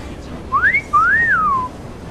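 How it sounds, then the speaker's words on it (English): A character in Assassin's Creed Syndicate whistles loudly and clearly, a short rising note followed by a longer swooping whistle, heard alone over faint background. "Ooh, let's whistle at him."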